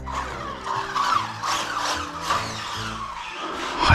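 A cheap radio-controlled car drives briskly outdoors on a sunny day, its tires scrubbing and skidding in a steady hiss with a whining motor that rises near the end, without talk.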